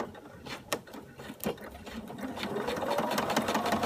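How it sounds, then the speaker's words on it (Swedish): A sewing machine sews in a zipper at close range. Its stitching starts as a few sparse clacks and builds into a steady, fast mechanical whir that grows louder toward the end, with no talking. "Så börjar jag sy här. syr jag 5 steg framåt och så 5 steg bakåt."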